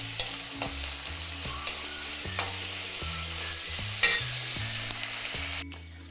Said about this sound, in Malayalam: ചെറുതായിട്ട് ജസ്റ്റ് ഒന്ന് ചതച്ച് അതും കൂടെ ഇട്ട് നന്നായിട്ട് വഴറ്റിയെടുക്കണം